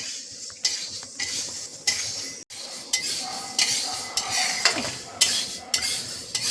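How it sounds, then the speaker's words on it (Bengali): Moong dal being dry roasted in a pan for khichuri, with repeated scraping and stirring strokes of a spatula against the pan, rhythmic and close, with no talking. "সোনা মুগ ডালটাকে আমি শুকনো খোলায় ভেজে নিচ্ছি"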